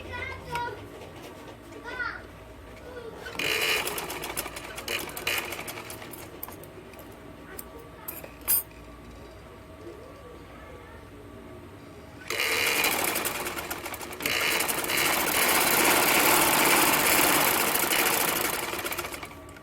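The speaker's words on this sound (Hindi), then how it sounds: "सीधी साइड के साथ सीधी साइड अटैच करनी है और सिलाई लगा देनी है" Sewing machine stitching the seams of a ladies' shalwar, running in two long bursts separated by quieter stretches with faint background voices and household noise.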